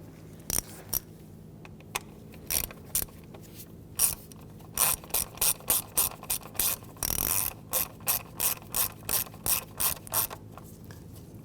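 A ratchet tightens an ignition coil on the 2.4L four-cylinder engine of a 2007-2017 Jeep Patriot, sounding close and crisp as short bursts of rapid clicking that come in quick, regular strokes, with no voices.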